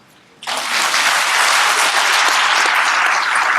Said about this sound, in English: give one more bigger round of applause to my beautiful wife